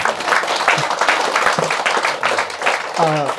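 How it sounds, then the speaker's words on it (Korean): Temple audience at a Buddhist dharma talk during a 2019 Amitabha birthday service breaks into a loud burst of applause, with voices mixed in and a voice rising near the end. "박수 한번 치셔야죠."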